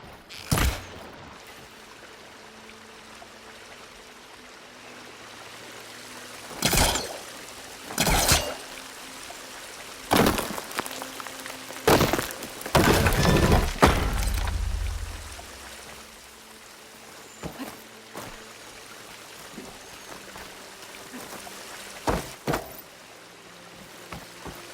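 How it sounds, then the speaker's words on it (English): Water leaks from a pipe in Horizon Forbidden West as a steady trickling stream, with several louder splashing or gushing bursts rising out of the constant flow and no speech. "The water is still leaking."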